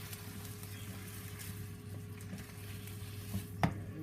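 Pre-boiled potatoes toss in a pan with sugar and butter, giving a soft, steady sizzle with faint stirring scrapes and one brief clatter near the end.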